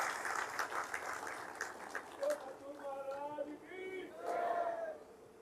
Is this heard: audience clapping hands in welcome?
yes